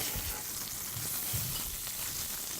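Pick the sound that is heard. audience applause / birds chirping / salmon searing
salmon searing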